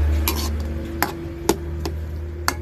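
Bopis, the Filipino dish, being stirred in a pan with bay leaf, a spoon scraping and clinking against metal every half second or so over a soft sizzle, close up.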